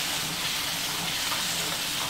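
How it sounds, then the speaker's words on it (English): Red stew with curry powder, cinnamon and bay leaf simmers and sizzles steadily in a pot, giving a dense, continuous hiss with faint scraping as it is stirred, close and fairly loud without talk. "I'm gonna do a real stir."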